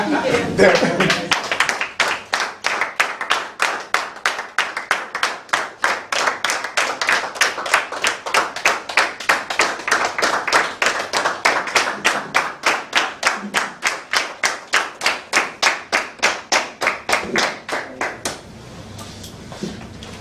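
Audience applause rings out for the newly elected Toastmasters club president, a dense steady clapping of many hands that holds for about eighteen seconds before thinning into a few scattered claps.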